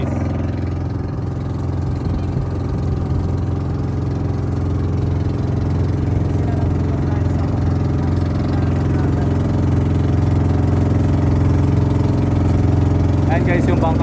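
A boat engine drones steadily at mid and low pitch throughout while travelling on the water, loud and unbroken, with voices talking over it.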